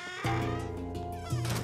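A cat meows twice in Luigi's Mansion 3, a drawn-out cry followed by a second call, close and clear with no speech over it.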